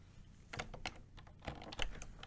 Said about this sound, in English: No lazy typing, please.